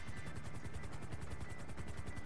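A helicopter in GTA 5 chops overhead with fast, regular rotor thumps and a steady whine, close and even throughout the short stretch with no talking.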